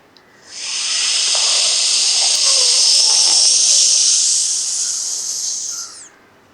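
One long, loud, airy hiss of a yoga inhale drawn through a rolled tongue, rising smoothly, holding steady for several seconds close up, then cutting off.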